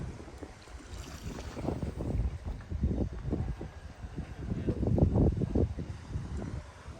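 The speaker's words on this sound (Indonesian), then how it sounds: "itu kapal yang tadi kita naikin pas berangkat, akhirnya sandar juga" A passenger ferry carrying cars docks on a Sorowako to Makassar trip, with low engine rumble, sloshing water and gusty wind noise rising and falling in a steady wash.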